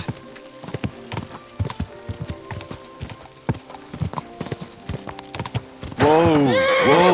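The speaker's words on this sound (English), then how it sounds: "My, what a beautiful horse." In the video game Kingdom Come: Deliverance II, hooves clip-clop in an uneven trot, then a horse lets out a loud, long neigh at the end.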